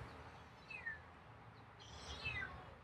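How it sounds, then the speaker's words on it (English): A feral cat gives two faint, brief meows spaced about a second and a half apart, heard outdoors over a low background rumble. "that's more of a meow"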